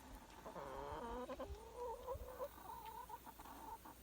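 Hens in a backyard chicken pen cluck softly and repeatedly, a series of rising and falling calls from a few birds at a quiet, moderate distance.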